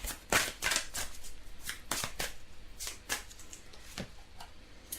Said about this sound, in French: Je vais tirer une carte principale.